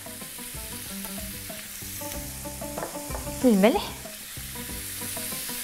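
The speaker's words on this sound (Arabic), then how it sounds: "غادي نخليهم يتشحروا حتى كنحسو بان الفلفله طابت" Peppers fry in oil with spices in a pan, a steady close sizzle running throughout, with a brief louder crackle partway through and someone speaking briefly over it.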